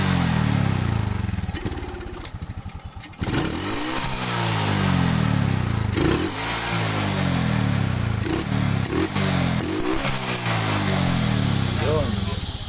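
A Honda XRM 125 motorcycle with a dirty, waterlogged air cleaner, a hard-starting engine that sputters briefly and then fires. It settles into a loud, close, uneven idle with repeated revving blips while people talk nearby.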